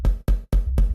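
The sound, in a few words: synthesized kick drum with saturator, reverb, gate and EQ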